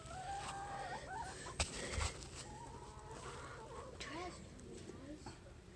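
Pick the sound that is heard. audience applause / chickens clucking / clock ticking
chickens clucking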